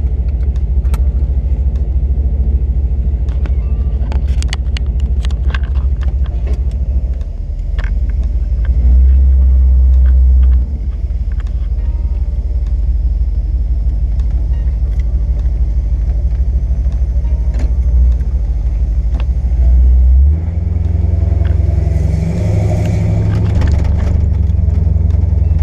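An LT1-swapped Chevrolet C10 pickup rumbles loudly and steadily on the road, with heavier surges of engine load near the middle and again toward the end, and no talking.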